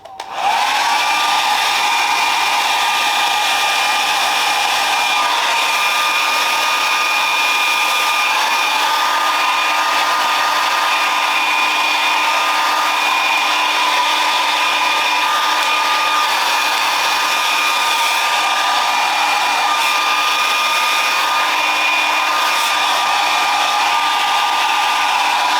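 A hair dryer runs continuously on hair for a long stretch, a steady loud whirring blow with a clear high whine and no pauses, no voices.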